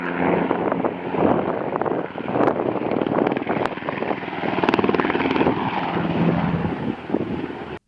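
A security helicopter circles low overhead near a parked Tahoe, its loud rotor thrum and engine roar steady and close, with gusty wind buffeting the microphone throughout and no talking.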